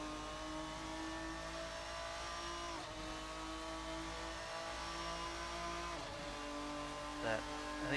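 Race car engine held at high steady revs, its tone climbing and dipping through gear changes, loud and close throughout with a brief spike near the end; someone talks over it.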